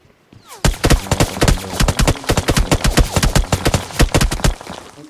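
Gunfire rings out in the mobile battle royale game BGMI, a rapid string of sharp, loud shots in quick bursts lasting several seconds, close and dense with brief gaps.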